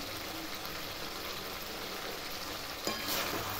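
Chicken biryani gravy sizzling steadily in a hot pan as it is stirred after sour yogurt goes in, a close, even hiss with a brief scrape near the end.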